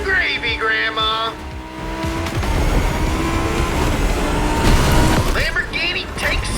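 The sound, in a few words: Lamborghini race car engine and tire squeal, from a video game (The Crew Motorfest)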